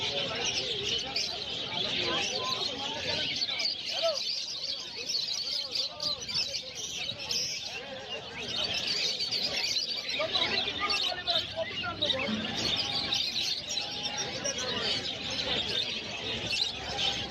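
Pet cockatiels and other cage birds chirp and twitter densely at a busy bird market in Uluberia, India, with a steady crowd murmur and voices talking throughout.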